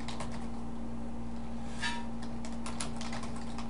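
Rapid, uneven keyboard clicks tap away over a steady electrical hum, close and fairly quiet, with no voices.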